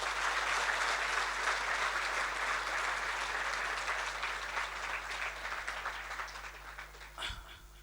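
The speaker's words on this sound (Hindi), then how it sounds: "इनके लिए एक बार जोरदार ताली।" Audience applauding faculty at an institute inauguration ceremony, a dense, loud burst of clapping that slowly thins and fades toward the end.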